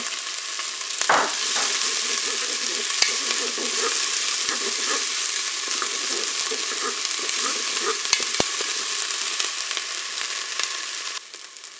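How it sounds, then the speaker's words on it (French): Onion pieces sizzle in hot oil, browning for a courgette and beef lasagne in a Cookeo, with a loud, continuous frying hiss and occasional light stirring clicks, no talk. "mon huile est chaude, je vais mettre mes morceaux d'oignon. On va les faire dorer."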